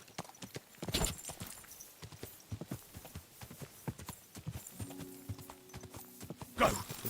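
Horse hooves clip-clop in a steady walking rhythm, moderately close and fairly quiet, with light scuffs and a brief low tone near the end.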